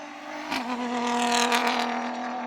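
Toyota GR Hilux Dakar rally truck with a 6-speed sequential gearbox running hard in a drag race, a steady loud engine drone with a quick shift break early on, continuing strong and close.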